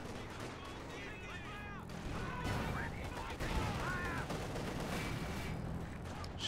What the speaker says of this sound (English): Sturmovik strafing run